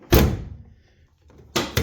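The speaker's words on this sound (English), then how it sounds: "you had to close it like this. And I thought, man, that can't be good for anything, just slamming all the time." A Nissan Frontier pickup's tailgate is slammed shut: one heavy, close thunk, a quiet pause, then another hard slam followed quickly by a second knock.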